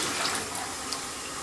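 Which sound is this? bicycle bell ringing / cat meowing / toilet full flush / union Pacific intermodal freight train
toilet full flush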